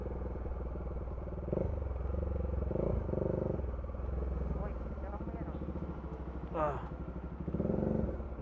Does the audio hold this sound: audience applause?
no